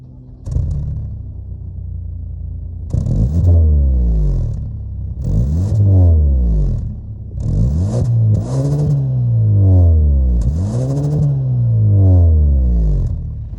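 A 2022 Kia K5 GT's 2.5-liter turbo four-cylinder engine cranks and catches, then revs up and down in four strong, rising-and-falling bursts, loud and close with no talking.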